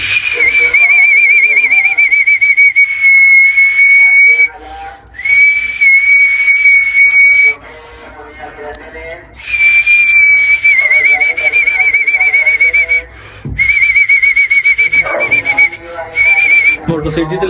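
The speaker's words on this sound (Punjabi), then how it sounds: "ਦੇਖੋ ਤੁਸੀਂ ਸ਼ੁਗਲ ਵੇਖ ਕੇ ਮੈਂ ਸੀਟੀ ਮਾਰਨੀ ਕਰਦੀ" A person whistles loud, sustained high notes in long phrases with short breaks between them, close by and without talk.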